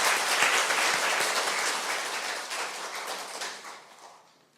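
An audience at a lecture welcomes two speakers with warm, dense applause that holds steady and then gradually fades out.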